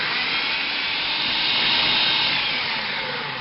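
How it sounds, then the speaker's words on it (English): A blender whirs loudly and steadily, blending raw pizza dough ingredients in one continuous, unbroken run with no voices. "We're going to go ahead and blend all this up."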